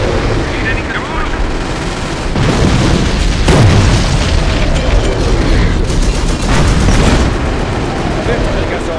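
Artillery shells pound the ground in Company of Heroes during a North African desert battle, rolling booms and blasts overlapping in a dense, loud barrage, with voices mixed in.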